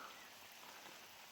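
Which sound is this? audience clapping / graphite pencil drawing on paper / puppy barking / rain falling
rain falling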